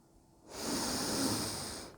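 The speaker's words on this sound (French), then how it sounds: "On inspire par le nez." A single slow inhalation through the nose during a calming breathing exercise, a soft, close airy rush that swells and fades over about a second and a half, alone without speech.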